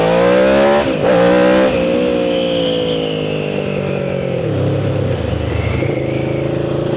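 A Yamaha Vmax 1700 motorcycle revving hard as the throttle opens, a loud close engine roar that climbs in pitch, drops briefly at shifts, then climbs again, with no talking.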